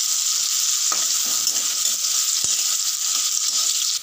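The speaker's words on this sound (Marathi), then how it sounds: "असं चांगलं मी तळून घेणार ह्या बटाट्याला" Potatoes frying in hot oil for a bhindi-potato dish, a loud, close, continuous sizzle with a brief stir or scrape partway through.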